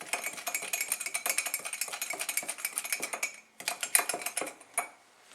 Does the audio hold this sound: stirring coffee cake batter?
yes